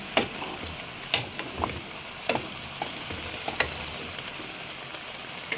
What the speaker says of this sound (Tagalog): Ilagay na natin yung ating mga gulay. Ayan, halo-halo lang natin.